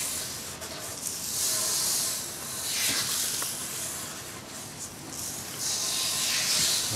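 Wood being rubbed with 400 grit sandpaper wet with boiled linseed oil, a close, continuous scratchy hiss in rhythmic strokes that swell and fade, with no talking.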